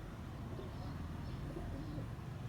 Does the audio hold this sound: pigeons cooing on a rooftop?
yes